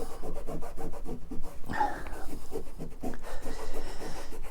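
A cloth rubbed back and forth over a tool, a close, rhythmic rasping swish repeating roughly twice a second with one louder scuff midway, no talk.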